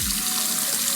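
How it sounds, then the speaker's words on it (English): A detachable kitchen faucet in an empty Houston luxury apartment runs water into the sink, a steady, close rushing hiss with no talk over it. "If you want to if you want to splash, or just want the water to, you know, kind of run regularly."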